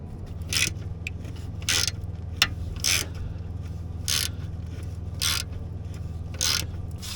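A wrench works on cross member bolts under a dump truck, producing repeated bursts of metallic ratcheting and scraping at regular intervals over a low steady background hum, with a single sharp clink midway.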